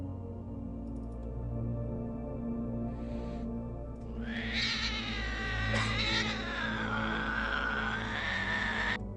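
Several cats yowl and caterwaul in long, rising wails that swell and overlap, staged as a sound effect in a horror radio story, over a low droning background.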